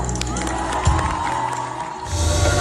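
A concert audience at a show cheers and claps in a sustained, crowded roar, swelling briefly and rising again toward the end.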